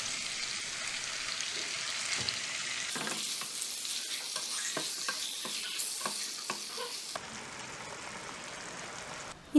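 Boneless chicken stir-fries on a flat tawa with a soft, continuous sizzle, broken by scraping and stirring strokes in the middle stretch, heard alone at a fairly low level.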